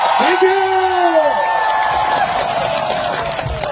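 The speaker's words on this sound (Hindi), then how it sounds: "एक बार शक्ति कपूर जी के लिए जोरदार तालियां" An audience at a Karbi Anglong Day celebration cheers, whoops and claps for the comedy performer Shakti Kapoor. A loud, rising whoop opens over a steady roar of crowd noise and applause that continues throughout.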